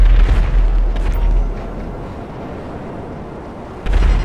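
Many missiles exploding in Grand Theft Auto V: loud, dense rumbling booms roll on without a break, swelling again with a fresh blast near the end.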